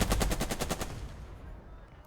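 Machine gun fire in Burden of Command, a rapid burst of about eight loud, evenly spaced shots lasting under a second, then a fading rumbling tail.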